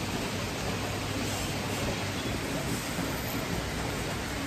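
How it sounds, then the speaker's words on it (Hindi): Heavy rain pours down steadily in a dense, continuous roar of broadband hiss, loud and unbroken throughout with no voices. "अभी बहुत तेज़ बारिश आ रही है."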